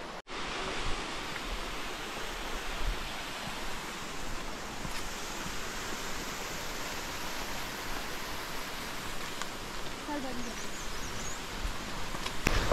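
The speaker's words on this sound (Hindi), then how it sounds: "बहुत तेज आवाज आ रही है पानी की, और पानी का जो स्पीड है ना फॉल्स की वो बहुत अच्छी है" Tiger Falls in Chakrata roars continuously, a broad, steady rush of fast falling water heard as a dense wall of noise with no clear breaks.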